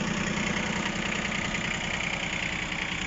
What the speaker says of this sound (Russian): слышно, что работает очень ровно мотор